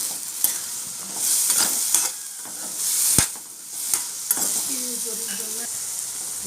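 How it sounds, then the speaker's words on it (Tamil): Washed sundakkai turkey berries dropped into hot oil and fried, a bright steady sizzle with swelling bursts and sharp spatula taps against the pan, close up, a faint voice briefly in the background near the end. "கழுகி வச்சுருக்கிற சுண்டக்காய் போட்டுடலாம் பக்கம் நல்லா வதக்கி எடுத்துடலாம்"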